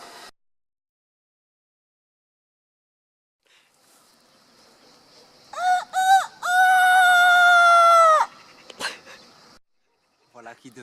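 Outdoors in the hills below the acropolis of Corinth, Greece, a person imitates a rooster's crow. A few short voiced bursts lead into one loud, drawn-out call that rings out after a long quiet stretch.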